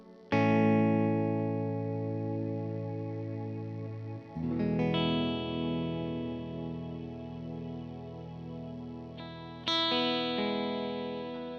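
Electric guitar run through the Kemper Cirrus Reverb on its breathe setting, sustained chords swelling in with a soft fade, a shimmering wash ringing on, then fresh strums near four and ten seconds blooming into long reverb tails.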